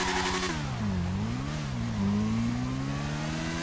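Custom drag motorcycle engine in GTA 5, revving loudly and steadily with the pitch dipping and rising between throttle blips, no voices.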